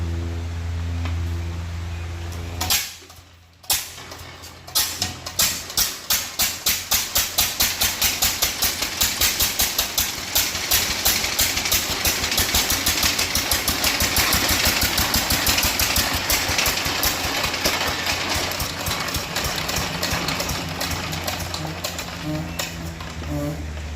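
An old compound gas engine sputters to life and settles into a steady, rapid chugging rhythm that runs loud and continuous throughout.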